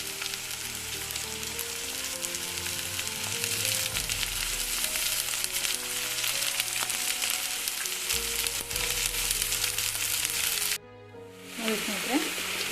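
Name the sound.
sprouted green gram frying in pan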